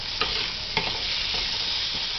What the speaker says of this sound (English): Right, fry up an onion in the juice. Well, we're letting that fry a little bit, stirring around.